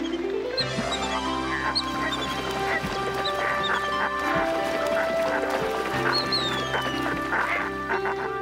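Wild ducks quack repeatedly at close range, several overlapping calls in an irregular chorus with other bird sounds mixed in.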